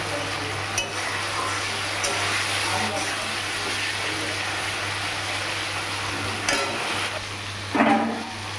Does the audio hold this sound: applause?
no